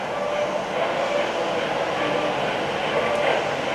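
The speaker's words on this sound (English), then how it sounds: "we have the Cubs train and the Chicago L's running around at all times." Steady rumbling, rushing noise of a model Chicago L train holds at an even level throughout, running continuously on its track.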